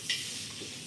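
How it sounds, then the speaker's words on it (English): Food frying in a pot with smoked turkey jaws, for Cornish hens and collard and mustard greens, gives a steady close sizzle with a brief brighter hiss near the start. "With it frying in there."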